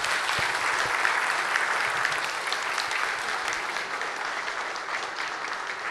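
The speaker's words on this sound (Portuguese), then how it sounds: "Uma grande salva de palmas para a Assembleia Legislativa e Poder." Sustained audience applause at a public hearing in Volta Redonda, dense steady clapping from a crowd filling a hall, loud and continuous throughout.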